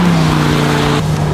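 An Italian-alternative supercar launches hard with wheelspin, its engine roaring loud and steady with a strong droning tone, a brief shift-like dip near the end, no talk.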